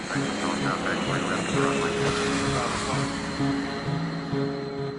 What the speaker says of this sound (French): Un hangar privé pour avions banalisés.